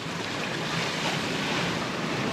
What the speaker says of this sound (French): zone de tous les dangers, un vent qui a forci beaucoup ici.